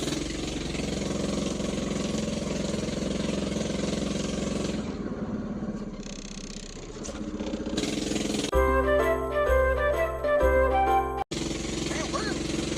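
A Predator 212 6.5 hp single-cylinder engine drives a shortened Mazda B2200 truck over soft ground, chugging steadily at close range with a brief dip midway and some jingling rattles toward the end.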